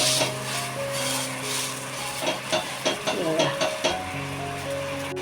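Thalipeeth flatbread pan-roasting on a hot griddle, giving a steady sizzle with crackling bursts and a few scraping, pressing sounds partway through, close and moderately loud.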